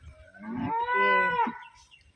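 A cow on a village cattle farm lets out one loud, close moo, rising and holding for about a second before tailing off, with no talk over it.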